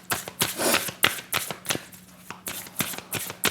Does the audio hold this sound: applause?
no